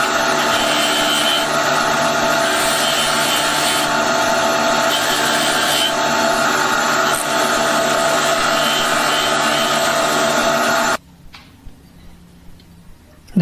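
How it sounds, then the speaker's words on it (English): Continuous abrasive machine whir of power sanding a knife handle wedge flush with the scales, steady and loud for about eleven seconds, then cutting off to near silence with a few faint knocks. "I'm sanding the wedge flush with the scales now."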